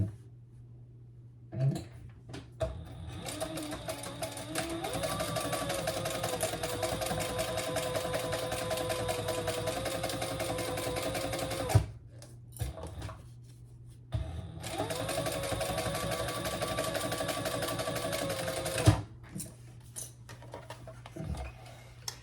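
A home sewing machine stitches fabric pieces together along a garment seam in two long, even runs of fast mechanical whirring, separated by a short pause and a few clicks as the needle stops and restarts.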